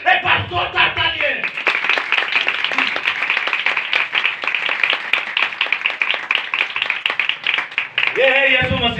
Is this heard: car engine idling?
no